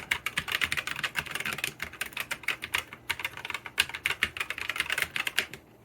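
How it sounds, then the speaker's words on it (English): Rapid typing on a mechanical keyboard with Gateron optical switches, unlubed red and lubed black, gives a dense, steady patter of crisp close keystrokes with a brief pause midway, and no talk. "Unlubed red optical Gateron, lubed black optical Gateron."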